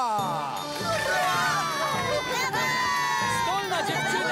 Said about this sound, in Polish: A teraz, moi drodzy, wielkie i huczne brawa dla naszej nowej mistrzyni.